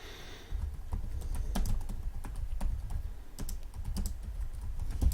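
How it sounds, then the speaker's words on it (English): Keys clatter steadily on a computer keyboard as a chat message is typed during an online backgammon match, a close run of uneven clicks heard alone. "I'm just gonna write to him in chat"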